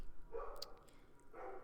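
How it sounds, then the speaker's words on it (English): A pet dog barks faintly in the background indoors, two short muffled barks about a second apart. "I don't know if you can hear my dog in the background."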